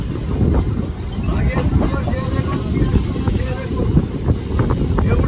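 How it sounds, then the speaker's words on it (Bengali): A train moves at speed, heard from on board as a loud, continuous rumble with wheel and track clatter and rushing wind across the microphone. "এখন আমাদের ট্রেন কিন্তু ছেড়ে বেরিয়ে যাচ্ছে স্পিডে"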